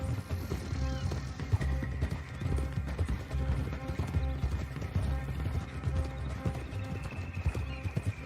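Steady rhythmic clip-clop of horse hooves at a trot in the video game Red Dead Online, continuous and fairly close, over a low ambient background.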